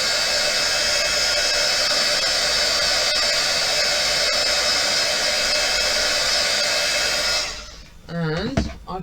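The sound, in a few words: hair dryer drying a keepsake box craft project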